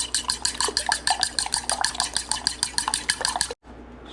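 Salted eggs whisked briskly in a bowl by hand, a fast steady run of utensil clicks and scrapes against the sides, close and clear, stopping abruptly near the end.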